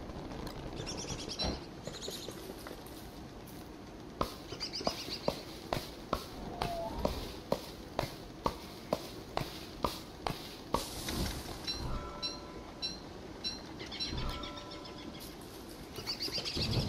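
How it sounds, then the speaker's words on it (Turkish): Birds in the video game Don't Starve Together chirp in short scattered calls over a quiet ambient bed, joined by a run of sharp regular clicks or steps in the middle. "Kuşlar siz gece hiç uyumaz mısınız? Buralarda mı gezersiniz?"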